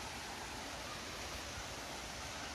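A waterfall at Solymar, Hungary roars as a steady, dense broadband rush of falling water, heard close and constant with no breaks throughout.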